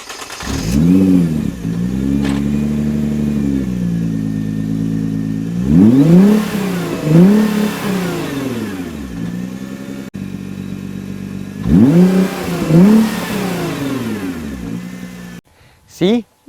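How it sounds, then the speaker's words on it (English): A stock Nissan GT-R Premium's exhaust revs loudly and close by, rising and falling in several distinct throttle blips between steady idling, with a brief gap near the end. "these exhaust pipes sound positively glorious"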